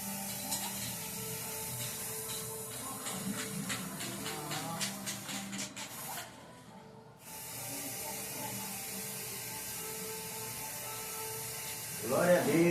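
Spray paint can shaken with repeated rattling strokes, then a long steady hiss of paint sprayed onto a refrigerator, close and loud, with a short pause midway and a brief clatter at the end.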